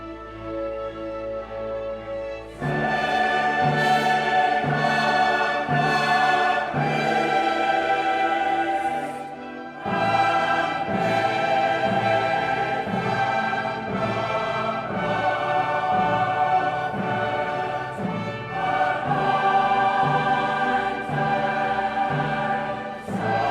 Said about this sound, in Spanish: La obra de Händel suena así, interpretada por el St. Matthew Choir